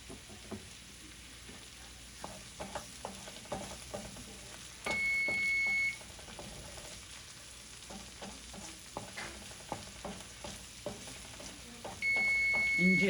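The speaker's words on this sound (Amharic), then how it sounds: "እንጀራው ኦቨን ስላስገባሁት እሱ ነው ድምጽ የምትሰሙት" Injera cooking in an oven makes a soft, continuous crackle, broken by occasional faint ticks and two short electronic beeps.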